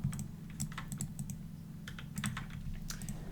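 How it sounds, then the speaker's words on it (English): Computer keyboard typing during a World of Warcraft raid session, a steady stream of close, crisp key clicks and clacks with irregular rhythm, heard alone over a low background hum. "in love with your keyboard sound, reminds me of the old days"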